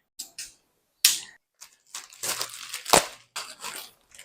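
Someone opens a package holding an electric scooter throttle, packed in bubble wrap: close, irregular bursts of crinkling, tearing and crunching plastic, separated by short pauses.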